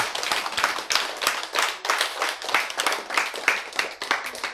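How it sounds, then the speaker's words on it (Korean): An audience at a lecture claps together in steady, dense applause that continues for several seconds at an even level, with no other sound standing out. "박수."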